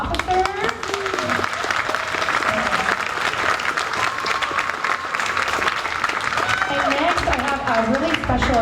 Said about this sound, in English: get a round of applause for all of our officers